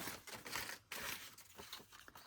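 Scrap papers being shuffled for a scrap box journal: close, quiet crinkling and rustling in quick irregular bursts, with one brief pause partway through.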